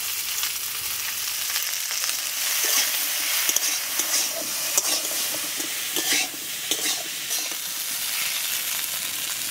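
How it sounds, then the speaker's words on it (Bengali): Okra, potato and green chili frying with salt and turmeric in oil, a loud dense hiss of sizzling throughout with occasional scraping of a spatula stirring the pan close by. "লবণ হলুদ দিয়ে এই ভেন্ডি আলু খুব ভালো করে ভেজে নেব।"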